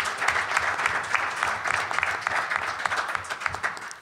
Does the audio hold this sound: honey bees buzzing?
no